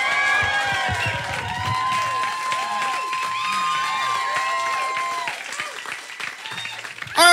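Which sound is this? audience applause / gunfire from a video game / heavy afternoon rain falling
audience applause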